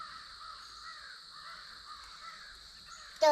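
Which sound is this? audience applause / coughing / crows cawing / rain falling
crows cawing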